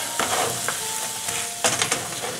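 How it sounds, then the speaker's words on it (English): Meat patties for a Halloween recipe sizzle loudly in a frying pan, a continuous close hiss broken by a few scraping stirs and pressing sounds. "Then I'm just gonna put my meat on the fry pan."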